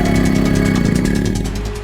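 A motorbike engine rumbling steadily close by, a low throbbing idle with a faint pulsing beat, loud for the whole short moment and easing off slightly at the end.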